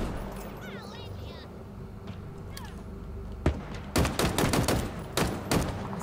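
Halo Infinite DMR fire cracks out as a quick string of rapid, loud shots in the second half, following a stretch of ambient game noise with a few scattered effects.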